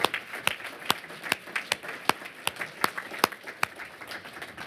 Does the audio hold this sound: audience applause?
yes